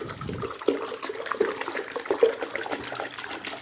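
Water sloshing and swirling inside a rotating cylinder, a steady wet churning with small splashy bursts, close and moderately loud throughout.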